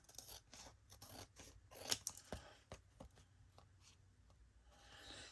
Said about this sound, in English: A little trim here. A little trim there.